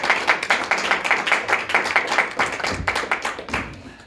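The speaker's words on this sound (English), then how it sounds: "let's give Karen and Katie a round of applause" Audience applause after a community meeting presentation, a dense wash of many hands clapping at moderate volume that thins and tapers off toward the end.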